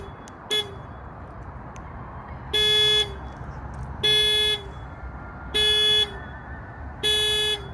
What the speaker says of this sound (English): It's the most pathetic panic alarm I've ever heard.